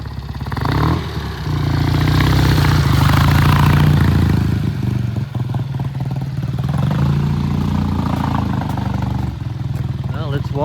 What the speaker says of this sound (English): Sounds like all two cylinders are firing just fine.